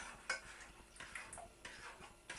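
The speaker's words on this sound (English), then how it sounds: "I'm going to stir in the eggs." Eggs being stirred into melted butter in a mixing bowl for hot cross bun dough, heard as several light, close clinks and scrapes of a utensil against the bowl at an uneven rhythm, fairly quiet, with no talking.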